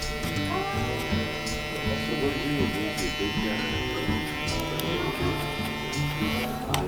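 Electric hair clippers with a guard buzz steadily while cutting a mid bald fade, a constant motor hum that stays close and even throughout, with background music layered underneath.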